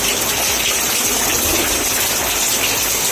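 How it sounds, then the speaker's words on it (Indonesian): Heavy rain pouring down steadily outdoors, a dense, loud, unbroken hiss with no letup across the whole stretch. "Cuacanya hujan terus guys."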